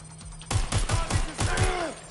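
Burst of rapid gunfire in Watch Dogs Legion, about six close, punchy shots in quick succession, with a voice faintly underneath.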